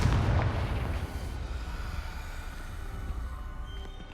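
A Confringo blasting spell in Hogwarts Legacy erupts in a single loud explosive burst at the start, then a rumbling roar slowly fades and decays over several seconds.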